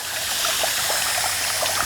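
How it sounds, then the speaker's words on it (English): Water streams steadily onto the soil around a newly planted fig tree, a close, continuous trickling and pouring hiss with no voices. "After you finish planting the fig tree, make sure to water it a little around."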